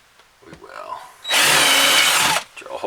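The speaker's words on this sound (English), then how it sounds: "drill a hole there." A power drill bores a hole for a new interior electrical outlet, running loud and steady for about a second, close by, between stretches of quiet talk.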